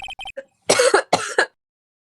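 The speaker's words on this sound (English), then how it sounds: "Why are you coughing so much?" A video game character in Ace Attorney coughs, first in three quick clipped bursts, then in two longer, harsher hacking coughs, close and loud with no other sound around them.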